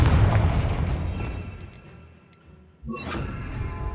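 Confringo fire spell cast in Hogwarts Legacy: a loud booming blast at the start fades through a rumbling tail, then a second sharp burst hits near the three-second mark and rings on.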